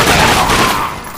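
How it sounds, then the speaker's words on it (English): Gunfire in the game The Darkness 2, a loud dense burst of shots that rolls into a booming roar and fades within about a second. "Open fire!"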